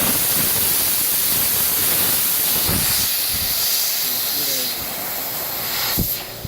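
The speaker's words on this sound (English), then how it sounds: "we're going to get a lot of air coming out the main line here" Compressed air rushing out of a sprinkler system main line while it is winterized: a loud, continuous hiss that stays nearly constant throughout, with a sharp knock near the end.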